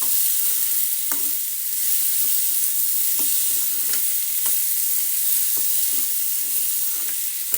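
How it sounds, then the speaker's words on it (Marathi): A carrot bhaji fries in a pan with a constant, fairly loud sizzle, and a spatula stirs it at a steady rhythm with regular scraping strokes. "तर आता याला फ्राय करून घेऊ आपण पाच मिनटासाठी"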